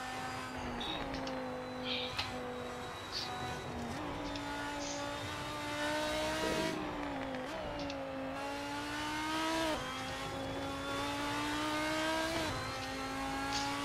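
A race car in the Assetto Corsa video game laps the Nordschleife, its engine revving hard through rising pitch sweeps broken by quick gear changes, with brief tire squeal and no talk over it.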